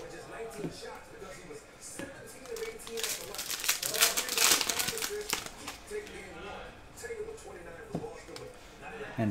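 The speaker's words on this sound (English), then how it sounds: "slide the base cards out from the bottom" Baseball base cards are slid out from the bottom of a card pack, giving a crinkly, papery rustle that swells in the middle, while people talk throughout.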